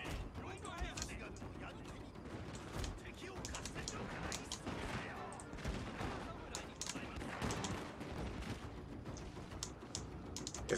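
Volleys of gunfire in a video game, quiet and distant-sounding with scattered cracks and mechanical clatter, with a voice talking over them.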